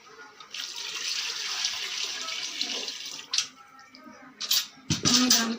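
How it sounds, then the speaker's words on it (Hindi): Water poured into a pan of ghee-roasted gram flour while making kadhi, a steady close splashing stream for about three seconds, then a few short clinks and knocks of utensils. "अब हम इसमें पानी ऐड करेंगे।"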